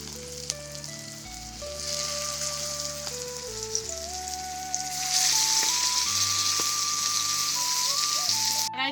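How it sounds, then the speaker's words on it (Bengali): Banana flower frying in mustard oil in a pan gives a steady, close sizzle with a crackling hiss that swells louder partway through, while a tonal melody plays over it. "এবার বাকি মোচাটাও ওইভাবে আমি ভেজে নেব।"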